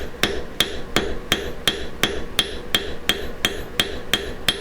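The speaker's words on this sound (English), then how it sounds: "I'm overlapping my hammer blows" Flat peen hammer forging silver wire flat on a metal block: a steady run of about thirteen sharp, ringing metallic blows, evenly spaced and close, with no voices.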